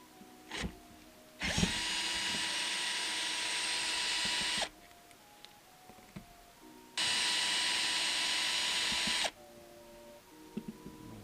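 A power tool whirs in two sustained, loud bursts of several seconds each while the cylinder head cover is removed from a Rotax 125 engine, with small clicks and tool handling in between.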